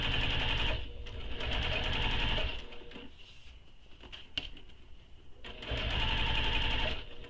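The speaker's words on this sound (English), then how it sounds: "Now we're going to top stitch this panel all the way across" A sewing machine top stitches across a tote bag panel in rapid, even bursts, running for a couple of seconds, pausing, then running again, close and clear with no talking.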